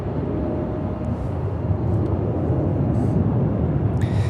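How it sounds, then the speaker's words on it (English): A Spirit Airlines Airbus A320neo landing at Charlotte-Douglas International Airport, a loud continuous low engine roar and rumble close by, with faint brief chirps over the top. "It's an Airbus A320neo."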